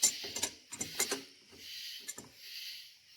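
A brake caliper piston tool ratcheting in short bursts of clicks, close and fairly quiet, with pauses between the groups of turns.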